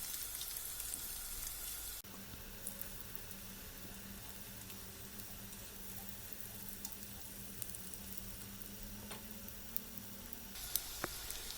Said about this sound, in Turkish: Patatesler pişmiş olduğu için kısa sürede kızarıyor.